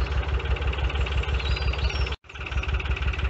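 A narrowboat engine chugs close by in a steady, rhythmic throb with faint knocking, broken by one brief dropout before it carries on.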